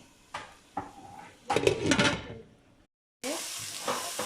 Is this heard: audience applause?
no